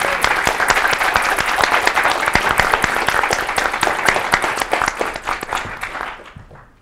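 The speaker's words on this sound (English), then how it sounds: "Please join me in a round of applause for our panelists." An audience at a panel event applauds the panelists, loud, dense clapping from many hands that holds steady for several seconds and then fades out near the end.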